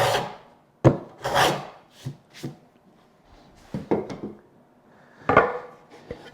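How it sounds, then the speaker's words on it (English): A hand plane shaves wood while fitting a sliding dovetail, giving a few separate rasping strokes of varied length with quiet gaps between them, close and fairly loud. "I want to be careful not to plane too much at the front"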